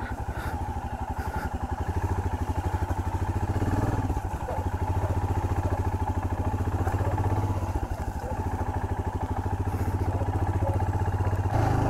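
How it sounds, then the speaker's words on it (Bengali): Royal Enfield Himalayan motorcycle carrying two riders climbs uphill in first gear near Bijanbari, Darjeeling, its single-cylinder engine thumping in a steady, close, labored rhythm with slight dips in load. "কিন্তু হিমালয়ান 1 নম্বরে দিয়ে চালাচ্ছি।"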